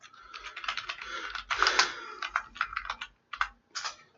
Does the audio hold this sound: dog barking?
no